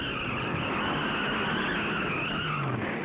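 Tires squeal in a sustained, harsh hiss over roaring engines as stock cars skid at over 100 mph during the 1964 Darlington Southern 500, loud and continuous for a few seconds.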